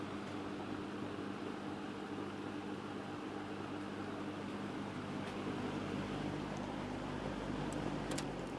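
A Kmart Lakewood S-23 box fan with a shaded-pole motor runs steadily, giving a faint, even whirring hum with broadband air noise that holds unchanged throughout, with no voices.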